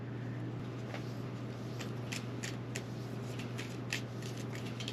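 Quiet riffling and soft snapping of cards being shuffled, a series of light flicks over a steady low hum.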